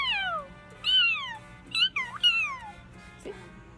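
A person imitating a cat, giving a series of drawn-out, wavering meows with short gaps between them, close and clear, with no other talk.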